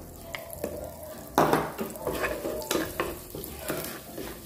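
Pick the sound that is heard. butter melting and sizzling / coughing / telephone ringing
butter melting and sizzling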